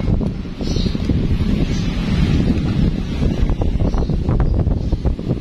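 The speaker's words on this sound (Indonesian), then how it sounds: "anginnya keras sekali hari ini." Strong wind roars steadily against the microphone outside a home workshop, with loud continuous buffeting and rustling and no voices.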